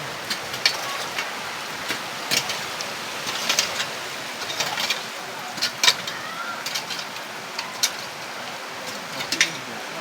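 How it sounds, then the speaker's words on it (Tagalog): Heavy rain from a typhoon in Batangas, Philippines, pours in a dense, steady hiss, with scattered ticks and taps of drops striking nearby surfaces. "Lakas ng ulan."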